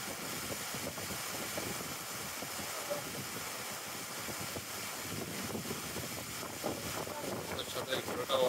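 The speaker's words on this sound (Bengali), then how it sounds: "কিরকম বাতাস হচ্ছে, বাতাসটা কিরকম বোঝাই যাচ্ছে। এত ঝড়, এত তুফান।" Strong stormy wind on a rainy day at Sada Pathor in Sylhet roars steadily into the microphone as a dense, continuous rush that swells slightly toward the end.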